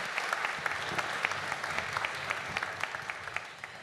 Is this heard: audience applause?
yes